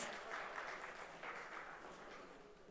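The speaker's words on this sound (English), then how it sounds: "some more energy, and a big round of applause" A media summit audience applauds loudly and continuously for a few seconds, a dense wash of clapping with no talk.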